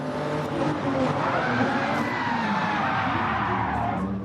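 A race car pulls away from the start and accelerates hard, its loud engine rising steadily with some tire squeal as it drives off, heard up close with no talking.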